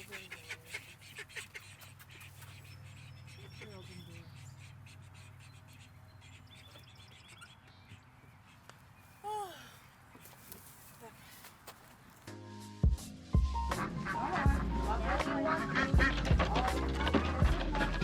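Call ducks quacking in short scattered bursts while being herded into their run at dusk, with footsteps and rustling growing louder near the end.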